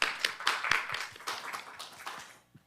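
An audience at a STEM workforce development session claps for a speaker, a brief burst of close hand claps from a modest crowd that thins out and fades within a few seconds.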